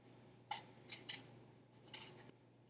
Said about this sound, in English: First thing you're gonna do is peel your apple.